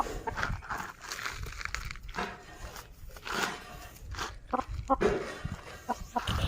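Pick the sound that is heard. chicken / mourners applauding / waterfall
chicken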